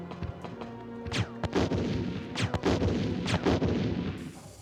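Heavy booming blasts from grenade launcher rounds in a Resident Evil game, several loud explosive impacts in quick succession, each with a sharp crack and rumbling decay, no voices over them.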